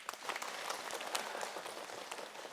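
Audience applause at an Islamic talk show on marriage, a dense, fairly soft patter of many hands clapping at a steady rate from start to finish.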